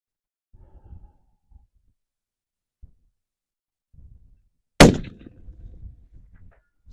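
A single suppressed shot from a Ruger Ranch Gen 2 rifle with an AAC Sabre suppressor, firing M80 ball at an outdoor range, cracks sharply after quiet handling noises, followed by a short decaying echo and faint movement.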